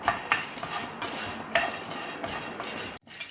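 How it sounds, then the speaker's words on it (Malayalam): Roasted gram (pottukadala) stirred in a pan while roasting for protein laddu: a steady dry rustle with a few sharp clinks of a utensil against the pan, close and alone with no talking. "പക്ഷെ എന്നാലും നമ്മൾ ഒന്നും കൂടി ഒന്ന് റോസ്റ്റ് ചെയ്തെടുക്കുന്നു"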